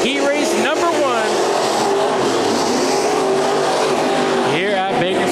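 Race cars in a heat race at Bakersfield Speedway roar loudly and continuously, engines rising and falling as cars pass through the turns, with an announcer talking over the noise.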